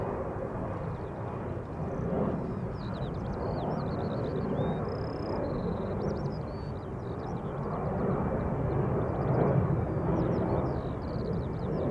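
A Boeing Dreamliner airliner at Schiphol Airport, a broad steady jet engine roar from some distance, with birds chirping faintly above it.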